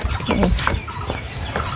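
Native and Chinese ducks in a rural yard, with several short honking quacks at close range against a steady background of farmyard noise.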